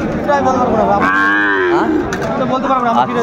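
Young Sahiwal bull calves at a livestock market give a drawn-out, close moo with a rising, wavering tone, cattle calls overlapping amid the market crowd noise.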